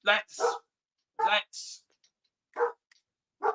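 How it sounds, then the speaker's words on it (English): Two dogs bark in the background indoors: five or six short, sharp barks in quick uneven bursts, fairly close, with brief quiet gaps between them. "I'm sorry about the dogs barking. There's 2 dogs here where I am,"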